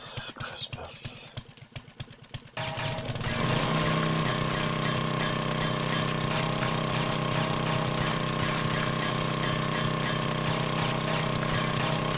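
A motorized auger in the 7 Days to Die video game starts up after a few quiet, voice-like moments, then runs as a loud, steady, buzzing engine drone to the end.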